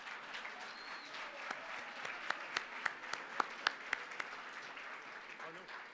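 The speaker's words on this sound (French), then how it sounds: "Je pense que ça vaut une belle main d'applaudissements." Applause from the audience at the Charlevoix entrepreneurship gala, a soft, distant wash of clapping with a few sharper nearby claps standing out, under a faint voice.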